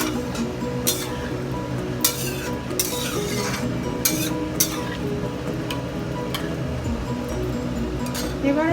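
Gobindobhog rice being stirred in about four cups of water in a cooking pot, with a steady swishing undertone and scattered light clinks of the spoon against the pot, close and continuous under a low background hum.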